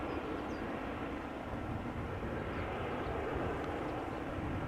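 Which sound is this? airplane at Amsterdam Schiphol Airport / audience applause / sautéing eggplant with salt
airplane at Amsterdam Schiphol Airport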